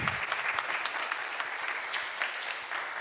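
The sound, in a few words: audience applause for the pastor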